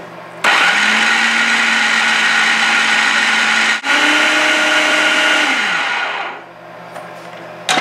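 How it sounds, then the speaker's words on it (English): Vanilla French toast batter whirring in a blender, a loud steady motor whine running for several seconds, briefly dipping, resuming, then winding down to stop near the end. "And then we're going to blend that up."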